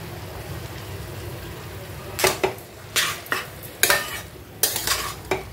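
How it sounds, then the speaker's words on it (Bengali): Boiled chicken pieces being stirred into hot oil in a pan, with a quiet low sizzle underneath and a series of sharp utensil scrapes and clatters against the pan, close and irregular, arriving in bursts. "এবার আমি এর মধ্যে চিকেনটা দিয়ে দেবো, ভালো করে একদম মিশিয়ে দেবো বয়েলড চিকেনের টুকরোগুলো।"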